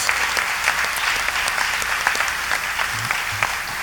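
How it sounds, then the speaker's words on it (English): A concert audience gives a loud, sustained round of applause, an even wash of many hands clapping close by throughout. "Let's give Jonathan a great round of applause."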